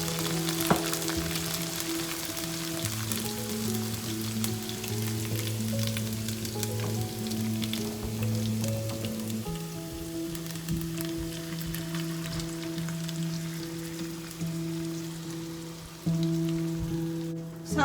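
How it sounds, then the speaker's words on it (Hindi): Marinated chicken hisses and sizzles steadily in a pan with frying garlic and ginger, a continuous crackle under soft sustained background music with no speech. "इसके अंदर हम मैरिनेटेड चिकन ऐड करेंगे।"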